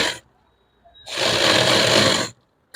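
A sewing machine stitches the sleeve of a simple suit: a short buzz at the start, a pause, then a steady run of about a second and a half, loud and close.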